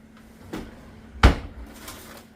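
A household drawer, one holding plastic wrap, is opened or closed with a single sharp knock, preceded by a softer slide or bump, in a quiet room.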